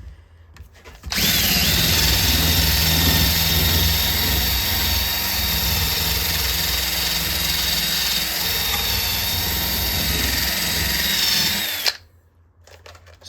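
A coarse polishing wheel buffs aluminum with a loud, continuous high whine and rushing roar that starts abruptly, holds steady for about eleven seconds, then cuts off.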